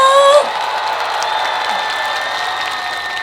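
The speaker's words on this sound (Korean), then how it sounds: "박수 칠 때는 박수만 칠 게 아니라 함성과 함께 박수!" A large outdoor festival crowd at a Korean trot concert claps and cheers steadily, a dense wash of applause and shouts that holds from start to finish after a brief louder tone at the very start.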